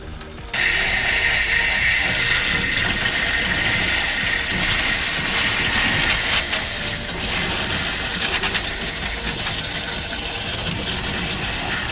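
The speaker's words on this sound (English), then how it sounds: "Then we'll turn on our shower." Water runs steadily from a trailer RV shower while the hot tap is open, a continuous hiss that starts abruptly and carries on at an even level with mild flutter, close by and with no talk.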